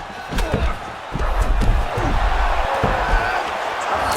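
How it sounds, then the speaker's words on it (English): Arena crowd noise from an EA Sports UFC 6 fight between Paddy Pimblett and Charles Oliveira, a steady roar that swells after a sweep, with thuds of grappling impacts throughout. "big pop from the crowd there"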